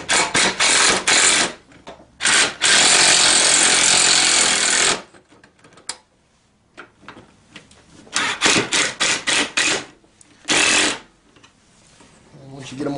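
A power tool tightens bolts on a TaoTao CY50A scooter in loud, close rattling bursts, some long and some short, separated by quiet gaps, with a person talking in between.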